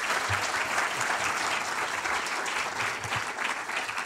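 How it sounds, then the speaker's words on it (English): An audience at a short film awards ceremony claps loudly and steadily for about four seconds, a dense and even wash of applause with no voices over it. "So another round of applause for them."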